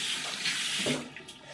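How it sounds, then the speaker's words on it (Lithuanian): Water runs steadily from a bathroom tap in a hotel room in Crete, a continuous close hiss and gurgle with no voices. "Va čia bėga vanduo."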